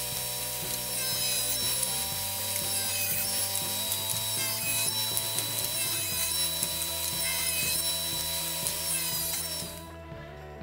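Wooden boards being ripped to a four-inch width with a power saw, a steady loud mechanical whine with shifting tonal hum running throughout, dropping away near the end.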